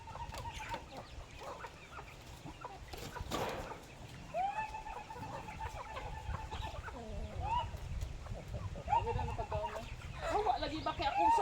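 A flock of chickens clucks continuously nearby at feeding time, with occasional louder calls, while people talk quietly in the background.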